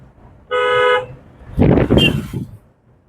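A single short car horn honk rings out clearly, followed by a brief burst of nearby road and engine noise.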